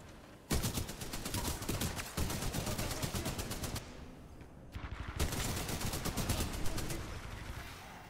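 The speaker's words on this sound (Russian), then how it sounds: "Блин, вот это взрывашки" Dense gunfire and explosions from the shooter game Titanfall 2, sustained rapid bursts of automatic fire that break off briefly near the middle and then resume just as loud and continuous.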